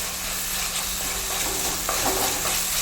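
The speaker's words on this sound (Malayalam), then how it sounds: "അതും ഇട്ട് നമുക്ക് നല്ലപോലെ മിക്സ് ചെയ്ത് കൊടുക്കാം" Karimeen masala fries in a pan as a ginger, garlic and curry leaf paste is stirred in, making a dense, continuous sizzle with close scraping strokes of the spoon throughout.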